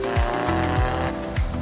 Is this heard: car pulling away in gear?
yes